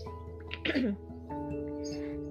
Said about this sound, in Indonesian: sorry agak ke distract dengan suara batuk aku